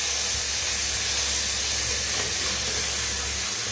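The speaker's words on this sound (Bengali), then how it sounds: "মশলাটা কষিয়ে নিচ্ছি।" A spice paste of ground cumin, coriander, tomato, ginger and chilli fries in a pan for vegetable biryani, giving a loud, steady hissing sizzle that runs unbroken, with no talking.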